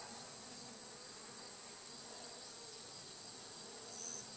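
A honey bee hive opened for honey harvest gives off a steady, faint insect buzz, a continuous drone with a slight swell near the end.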